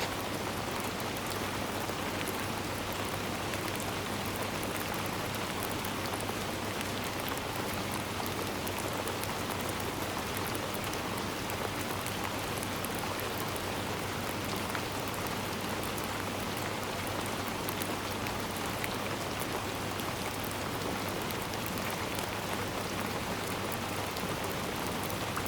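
Steady, dense rain falls outdoors on the Isle of Mull in Scotland, a constant close hiss of drops on wet ground with no letup, and no voices over it.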